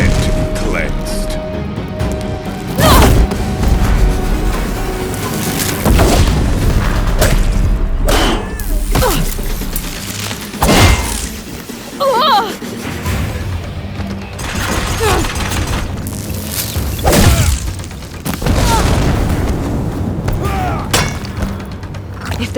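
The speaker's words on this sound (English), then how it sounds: "If the Deathbringers keep firing, this bridge will go!" Deathbringer machines fire their cannons in the action game Horizon Zero Dawn Remastered, repeated heavy thuds and crashing impacts through a loud battle, with voices speaking over the chaos.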